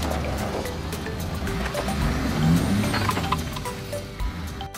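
A heavily loaded timber truck climbs a steep incline with a continuous loud engine roar and rushing noise, swelling slightly midway, with scattered clanks and rattles over it.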